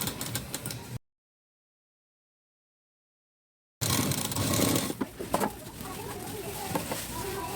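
A sewing machine runs steadily, stitching the front of a blouse. The dense, close whir cuts out completely for a few seconds, then resumes just as loud.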